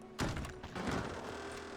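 A distant gunshot in a RedM Wild West roleplay game, a single muffled boom early on followed by a softer rolling thud, heard faint and far off.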